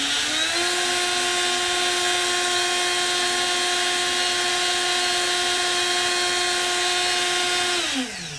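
A Proxxon IB/E rotary tool runs at maximum speed, around 20,000 RPM, as a loud, steady high-pitched whine after a brief rise at the start, then spins down near the end.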